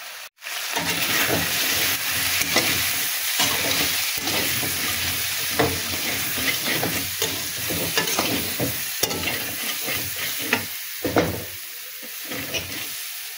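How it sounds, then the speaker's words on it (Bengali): Shrimp sizzle steadily in hot oil up close, with occasional scrapes and clinks of a stirring utensil and no talking. "তেলটা একটু গরম হোক, তারপরে চিংড়ি মাছটা ভেজে নেব।"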